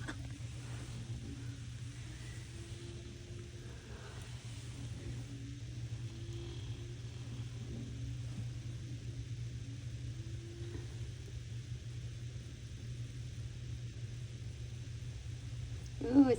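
A car drives slowly through a snowstorm on a snowy winter road, heard from inside the cabin. A steady, low engine and tyre rumble continues throughout, with faint voices and a brief louder bump at the end.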